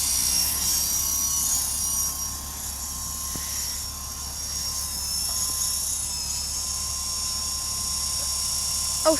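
A toy helicopter flies overhead, giving a steady high-pitched whine and buzzing rotor drone that holds constant throughout, with a small knock at the end.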